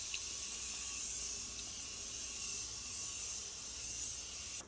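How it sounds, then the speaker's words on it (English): Soft, steady hiss of a setting mist spray misted onto a face, faint and close, holding for several seconds before a small click at the end. "I'm going to set my face really quick. Setting mist."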